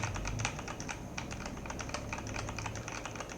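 Quick, continuous typing on an M-Tech WB500 keyboard with crisp, evenly paced key clicks over a low background rumble; no one speaks.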